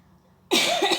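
A single sharp, loud cough bursts out after a moment of near silence.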